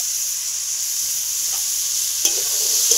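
Boiled figs, uncut-boiled diced potato and boiled chickpeas frying in a spice masala in a Kashmiri fig curry, giving a steady close sizzle and hiss with one sharp utensil knock near the end.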